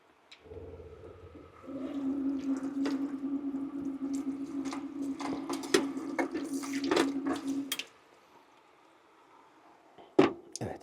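Water runs from a tap in a caravan kitchen as a close, steady splashing stream for several seconds, then stops abruptly, leaving near silence broken by a few faint knocks and clinks.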